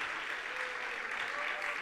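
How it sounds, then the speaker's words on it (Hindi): Live audience applause during a Jain religious gathering in Delhi, a steady dense wash of clapping sustained throughout at moderate level, with no voices standing out. "कितनी ताली बजाई आप लोगों ने।"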